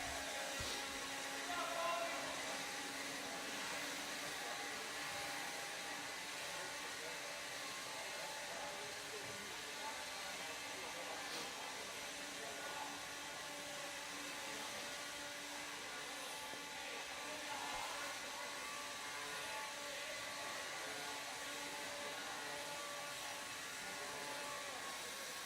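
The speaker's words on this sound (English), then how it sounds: "Marshals, grab your blowers. Start blowing off your areas." Marshals' blowers clearing an indoor RC raceway track during a national series finals event, a continuous faint whooshing drone lasting throughout, heard at a distance in a large hall with a murmur of voices.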